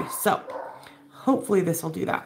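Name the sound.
dog barking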